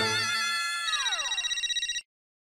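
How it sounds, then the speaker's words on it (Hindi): A mobile phone ringtone rings loudly and alone as a call comes in at home, a bright repeating melody that swoops downward near the end and then stops abruptly. "फोन आ रहा है"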